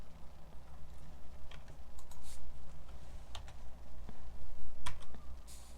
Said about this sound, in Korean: 바로 키보드로 별표 9개 엔터 눌러 주시면 됩니다.